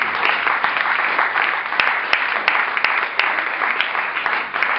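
Church congregation applauding steadily during a worship service, a dense continuous wash of clapping with a few sharp claps standing out, no cheering voices distinct.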